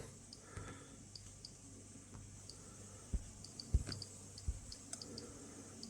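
Geiger counter dosimeter with an SBM-20 tube clicking in sparse, irregular ticks, a few sharper clicks bunching together near the middle, quiet and close with no talk.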